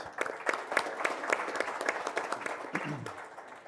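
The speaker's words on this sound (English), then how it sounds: "Give yourselves a round of applause." A seated audience at a speaker-series event gives a short round of applause, with sparse, distinct claps and some voices mixed in underneath.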